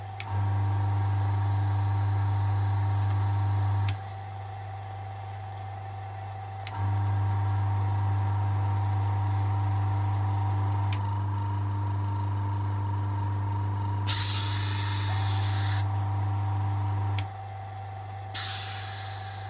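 An air compressor fitted with an AIRGOO AG-326 muffler runs with a loud steady low hum, cutting off briefly twice, with short bursts of hissing air near the end.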